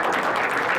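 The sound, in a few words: audience applause for the guest speaker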